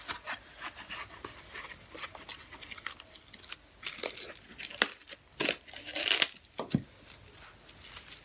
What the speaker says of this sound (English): I'm gonna prepare a piece of saran wrap.